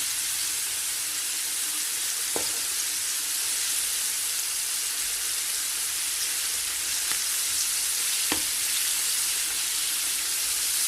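Chicken wings fry in a pan for Chinese-style wings, giving a steady, broad sizzling hiss throughout, broken by a few brief sharp pops.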